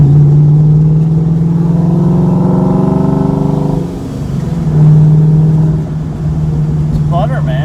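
A car fitted with a new 700HP clutch accelerates hard through the gears, its engine note rising loud and close with a shift break midway before pulling again; someone talks over the engine.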